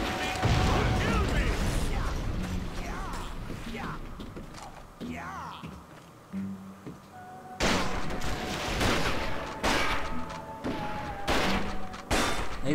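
Gunfire in the Western shooter Red Dead Revolver, with repeated loud shots and thuds in bursts through the stretch, over steady game noise and a voice talking.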